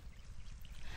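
Water pouring and trickling into a watermelon field during irrigation, a steady low gurgling stream running close by and continuously with no talk.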